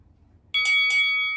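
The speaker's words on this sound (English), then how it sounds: "That 3 ding bell will be for change stretch" A workout timer's electronic bell chimes during a stretching cool-down, a bright ringing tone struck in quick repeated dings that sustain and fade, clear and close against a quiet room.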